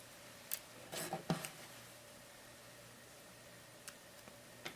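Scissors snip through yarn cord while finishing a spool-knitted braided bracelet, giving a few quiet, close snips and clicks within about a second, then near silence with faint ticks.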